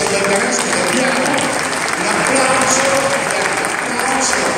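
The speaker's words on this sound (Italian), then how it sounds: "un applauso Giovanni Bergamasco" Sustained applause from an audience at an Italian book presentation, steady and loud throughout, with a voice faintly underneath.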